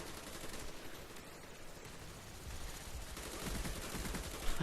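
Rapid first-person shooter gunfire on a jungle map, dense bursts of automatic shots and drop-shot kills running continuously and fairly loud with a brief louder crack at the end, no talking.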